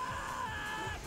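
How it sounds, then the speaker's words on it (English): Shrill, sustained screaming and whooping from several people, continuous and fairly loud throughout, during a live speedrun of the train-driving game Densha De D: Burning Stage. "Why are you guys screaming so much?"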